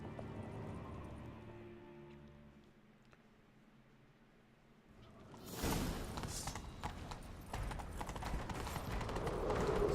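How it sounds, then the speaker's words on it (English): Horse galloping in The Witcher 3: Wild Hunt, a rapid, steady clip-clop of hooves that starts abruptly after a quieter stretch and continues loud and close, layered with the rush of movement. "Grab a horse, we'll chase him down"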